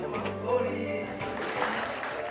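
Wedding guests in Rwanda clap and cheer as the bride appears, a brief burst of applause and voices mixed with talk and a low background drone.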